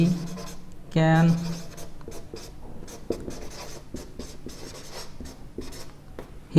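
Pen writing out a sentence on paper, soft scratchy strokes in short bursts under an instructor's voice speaking throughout.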